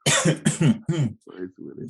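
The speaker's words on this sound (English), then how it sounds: "You might hear me cough, but I promise you, I'm not sick." A man coughs a few times in quick succession, close and fairly loud, followed by a short rough throat-clearing sound.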